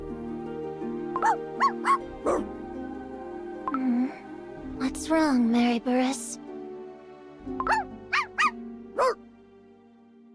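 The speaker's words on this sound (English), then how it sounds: "What's with all this barking?" Several short, tonal dog-like barks and yips from a Cookie Run video game come in bursts with pauses between them, close and clear, with brief speech mixed in.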